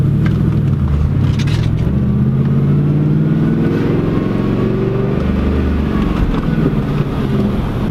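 A car's engine revs up and down continuously and loudly with a learner driver working the gas in first gear of a manual transmission, with steady engine drone and rising pitch sweeps throughout, no talking over it.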